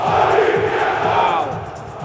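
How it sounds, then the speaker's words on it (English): Football crowd roaring from the stand behind the goal at a heated European club match, a loud, dense chanting roar that eases slightly toward the end. "A roar from the crowd behind the goal."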